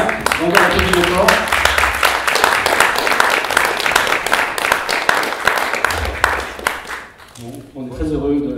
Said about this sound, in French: On va applaudir fort.